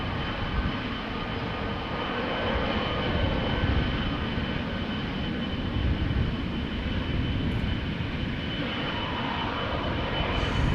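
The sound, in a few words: airliner jet engines departing Amsterdam Schiphol Airport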